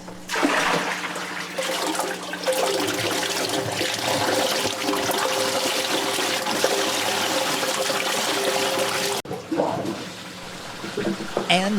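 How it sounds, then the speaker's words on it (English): A 5-gallon bucket of water pours steadily into a reef aquarium tank, a loud continuous splashing gush lasting several seconds before tapering off, with a voice briefly heard. "lift one more 5-gallon bucket up there and pour it into the tank"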